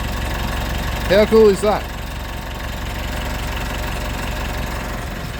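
A vehicle engine idles steadily with a low continuous hum, a brief voice speaking over it partway through.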